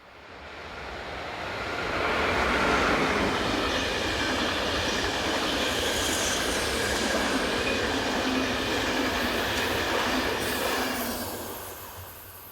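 An electric locomotive hauls the EC 171 passenger train south from Berlin toward Prague, a steady rumbling roar that swells in from quiet, holds loud and close for several seconds, then fades slightly as it passes.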